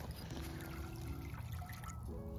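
Water trickling and pouring onto a camping cook setup on an island, a thin continuous liquid stream at close range with faint background noise and no voices.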